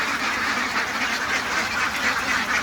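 Farm ducks quack continuously in a dense, overlapping chorus that stays close and fairly loud throughout.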